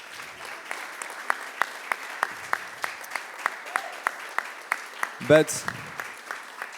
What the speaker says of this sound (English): Please, you can applaud them, please.